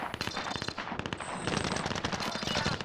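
Rapid bursts of automatic gunfire in an online multiplayer shooter game, dense cracking shots in quick strings, loud and close with no speech over them.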